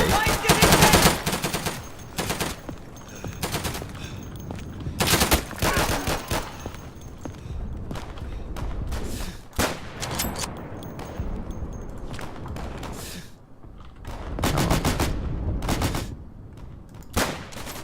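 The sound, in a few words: gunfire in a video game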